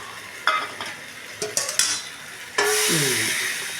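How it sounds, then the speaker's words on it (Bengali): Pieces of rohu fish and potato hit a hot pan of oil and get stirred: a few scraping spoon clinks and knocks, then a loud burst of sizzling that settles into steady frying. "এবার মাছ আর আলুটাকে ছেড়ে দেবো, ঠিক আছে? মাছ আর আলুটাকে দিয়ে তোমার নাড়াচাড়া করবো।"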